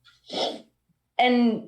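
A single sneeze bursts out, then a brief voiced sound follows right after, close and loud, in a quiet room during a tabletop role-playing game session.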